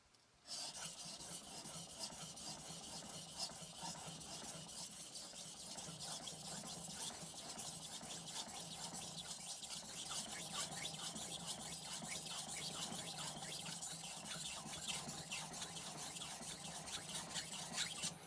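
A steady, rhythmic rasping of a blue No. 2 steel bunka knife stroked back and forth across a 1000 grit whetstone, continuous and close, with no talking.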